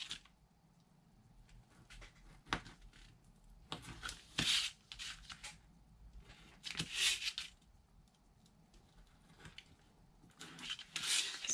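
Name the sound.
cutting out small corner pieces for a bag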